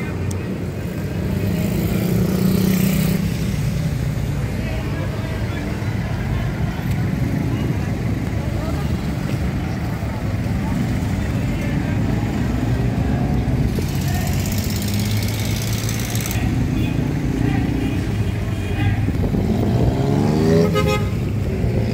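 Saturday street traffic in Davao City, with cars and motorcycles droning past, horns tooting now and then, and engine noise rising and falling, all loud and close under faint voices.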